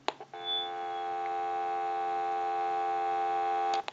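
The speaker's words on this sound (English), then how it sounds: "We'll give you some dial tone." A Disney animated Mickey Mouse telephone gives a steady, loud dial tone that holds unbroken for several seconds, framed by brief handling clicks at the start and end.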